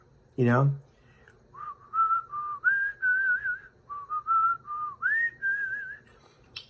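A short vocal sound at the start, then a clear whistled melody of sustained, gliding notes in phrases, close and fairly loud.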